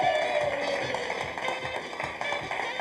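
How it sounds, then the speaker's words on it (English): Studio audience applause on a local Baton Rouge game show, a steady patter of clapping hands that runs throughout, with a bright tonal music bed playing underneath. "how about a nice round of applause, ladies to play"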